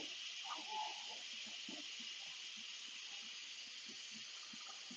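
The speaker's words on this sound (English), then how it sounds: "Cersie's releasing the steam from her Instant Pot" A steady, loud hiss of steam venting from an Instant Pot cooking vegan black-eyed peas and greens, continuous throughout with faint voices murmuring underneath.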